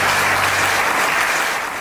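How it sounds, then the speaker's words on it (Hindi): A group of people clapping together at an indoor comedy gathering, loud continuous applause close by for about two seconds with no talking. "चलो अब आप लोग ताली मारो।"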